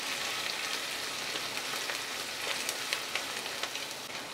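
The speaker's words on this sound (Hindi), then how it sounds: "मसाला डाल के 10 सेकेंड के लिए और हम भून लेंगे" Masala spices with chilli powder, turmeric and garam masala frying in a pan, an even, close crackling sizzle with small pops scattered through it, moderately quiet and steady, no voices.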